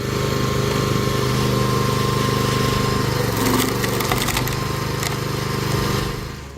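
A firewood processing machine with a hydraulic cylinder drones loudly and steadily, an engine hum underneath, while wood cracks and splinters in a burst of sharp snaps midway before the noise winds down.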